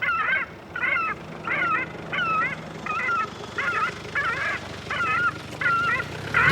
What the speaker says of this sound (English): identify the bird and play its distress call.